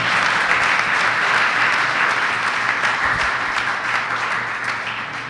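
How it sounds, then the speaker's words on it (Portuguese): A church congregation applauding during a worship service, dense sustained clapping filling the room, loud and steady, easing off slightly toward the end. "Vamos aplaudir e glorificar a Jesus"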